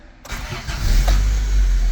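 A Honda Civic EF sedan engine cranks briefly after a moment of quiet, then catches and settles into a loud, steady, close idle with no talking.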